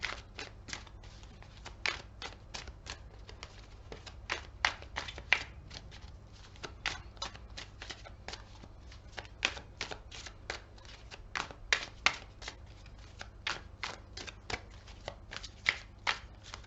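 Tarot cards being shuffled by hand, a continuous run of quick, crisp riffling flicks and soft card slaps close to the microphone, fairly quiet, with no talking.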